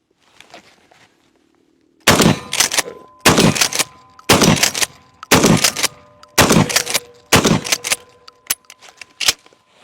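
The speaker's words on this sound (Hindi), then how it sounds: "लेकिन हर दफा फायर करने के लिए मुझे गन को पंप करना पड़ेगा" Pump-action shotgun fired repeatedly, seven loud blasts spaced about a second apart, each followed by the metallic clack of the action being pumped, with a faint hum and clicks beforehand.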